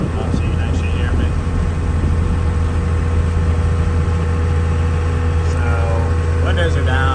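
A 1994–2002 second-generation Dodge Ram 2500 with a Cummins diesel and windows down rumbles in a low, steady drone with wind and road noise, while someone talks over it.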